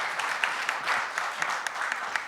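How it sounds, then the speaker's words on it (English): An audience at a conference's closing session applauds, a moderate crowd clapping with a few sharper individual claps standing out from the steady patter. "that's, I think, already applause"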